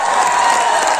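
Audience applause for a music band after their concert set, a dense, steady wash of clapping filling the hall for about a second at full loudness.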